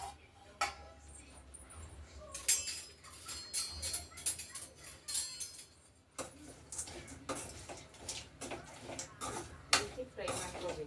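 Almonds, figs and raisins are stirred and fried in a pan, giving intermittent clinks and scrapes of a spoon against the metal while someone talks over the cooking.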